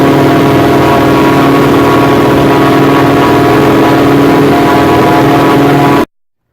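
A boat engine drones loudly and steadily at close range, a constant mid-pitched rumble that cuts off abruptly at the end.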